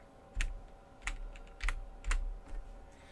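Arrow keys on a computer keyboard are tapped about six times in an uneven rhythm, each a crisp, close click over a quiet room.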